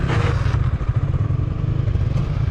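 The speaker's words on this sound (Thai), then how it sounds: "จากนั้นบิดบิดคันเร่งเลย ไม่ต้องกลัวอ่า" A Yamaha Exciter 155 motorcycle engine revs loudly and close as the throttle is twisted, a continuous rough, throbbing roar with a brief surge at the start.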